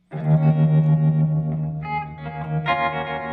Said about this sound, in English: Start off with an optical tremolo.